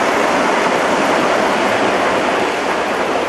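A dense, even rushing roar continues throughout from an Accucraft Black 5 gauge 1 live steam locomotive running close by with its throttle shut, coasting under its own inertia without pause.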